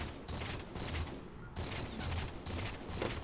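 Rapid automatic weapon fire rattles in continuous bursts during a Halo 4 battle, with short breaks and mechanical clatter between volleys.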